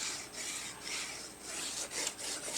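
A paper page is glued and rubbed down onto a 6x6 mini art journal, giving soft, continuous rubbing and brushing strokes that stay faint and close, with no voices.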